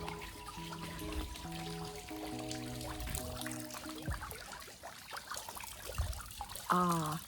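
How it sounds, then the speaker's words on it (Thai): Gentle trickling water runs steadily in the background beneath soft tonal chimes, with a brief higher-pitched chirp near the end. "ทุกคนได้ยินเสียงเราหรือได้ยินเสียงน้ำพุไหมคะ"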